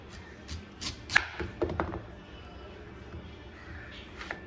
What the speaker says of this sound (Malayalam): നമ്മുടെ ക്യാരറ്റ് ഒന്ന് അരിഞ്ഞെടുക്കാം